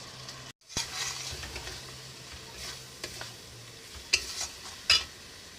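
Mutton sizzles and fries with chili, turmeric, cumin powder and salt in a pan, with a steady hiss broken by a few sharp scrapes and clinks of a spatula stirring against the metal.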